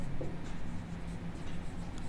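Pen writing out a Class 10 maths solution, a steady soft scratching of strokes on paper, continuous and close with no talk over it.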